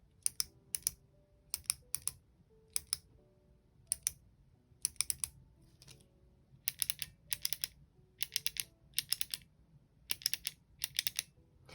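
A Zebra Tapliclip pen is clicked repeatedly up close, giving crisp, sharp plastic clicks with a slight springy ring, in uneven bursts of single and double clicks over quiet background.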